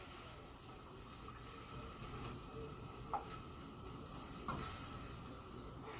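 Liquid poured into a pan of mushroom gravy, a steady low hiss and bubbling sizzle with a few soft clinks, moderately faint and without talk.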